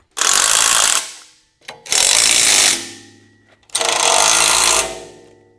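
A power tool tightens bolts on a bench press frame in three loud, close, buzzing bursts of about a second each, separated by brief pauses with a faint clink.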